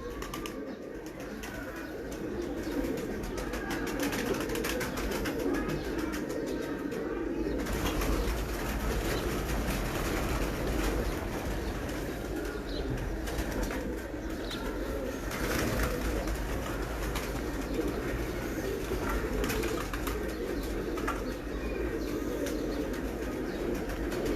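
Sialkoti pigeons in a Sialkot loft coo continuously, layered throaty calls close by with occasional wing flutters and chirps over a steady background hum, and no talk.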